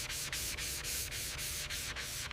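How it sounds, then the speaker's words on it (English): Sanding primer on the body of an Aston Martin Vanquish, a loud, close, continuous rasp with quick regular strokes, about nine passes in a row, no voices. "Sanding again."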